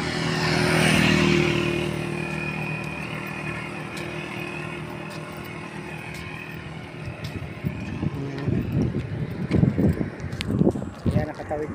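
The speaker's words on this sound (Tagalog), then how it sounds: "Oops, may motor." A motorcycle swells past on the Baao bypass road near Mayon Volcano, its engine rising to a peak early and fading away, followed by road noise and nearby talking.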